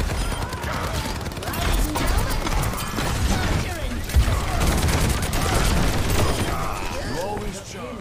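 Soldier 76's rapid ultimate gunfire in Overwatch 2, dense continuous automatic shots with impacts and game effects, loud throughout while someone talks over it.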